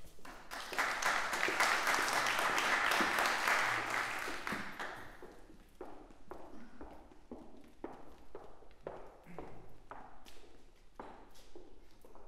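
An audience bursts into loud, dense applause welcoming a music duo at an evening lecture event, fading after a few seconds into scattered, individual claps that trail on.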